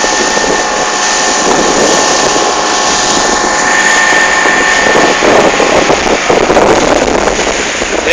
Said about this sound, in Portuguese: motor quebrado